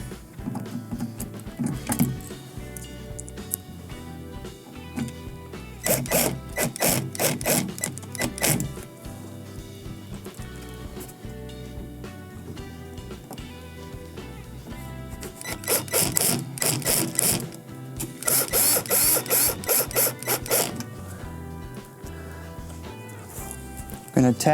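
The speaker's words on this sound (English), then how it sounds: "I'm going to attach the final screws for the bottom." A power screwdriver drives screws into the bottom of a Whirlpool refrigerator during a freezer repair, several short whirring bursts separated by pauses, close and moderately loud, with someone talking in between.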